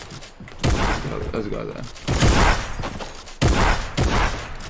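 Fortnite combat shotgun gunfire, three loud close blasts spaced roughly a second and a half apart, each trailing off into noisy decay, with someone briefly talking between them.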